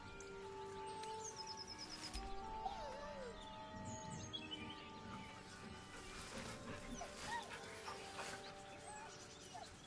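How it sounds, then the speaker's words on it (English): Scratch the dog whining in Baldur's Gate 3 video game, soft plaintive whimpers scattered over an ambient outdoor bed with chirping birds and a low musical drone. "With a deep, heartbroken whine,"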